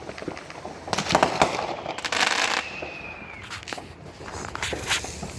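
Fireworks go off during a massive wind storm, giving scattered sharp cracks and bursts at a distance over a constant windy rush, with no talking.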